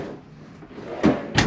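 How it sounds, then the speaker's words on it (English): Pull-out drawers in a Holiday Rambler Nautica 33TL Class A diesel pusher motorhome opening and closing: two close, quick sliding thumps about a third of a second apart, over a faint room background. "There's 8 full pull-out drawers."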